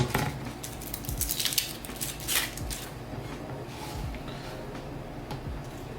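A knife cuts down the middle of an onion and its papery peel is stripped away, producing faint scattered ticks, taps and crinkly scrapes on a cutting board, soft and close with no talk.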